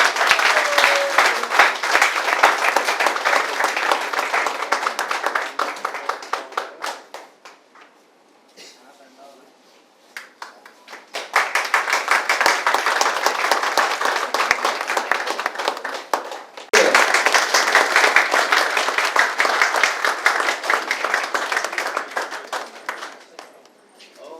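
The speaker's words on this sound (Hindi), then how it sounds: "क्या बात है, जोरदार ताली हो जाए।" A hotel event audience at the Ambassy Hotel breaks into long, loud rounds of clapping, then a quieter lull where a voice speaks, then two more strong bursts of applause.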